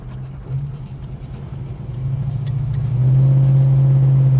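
Holden HK car engine running with a low, close rumble that swells and grows louder partway through, as if coming from the exhaust; steady and alone.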